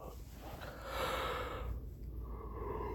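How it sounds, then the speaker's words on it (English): One big yawn, a quiet, close, breathy exhalation that swells in the middle and then trails off into soft breathing. "Big yawn."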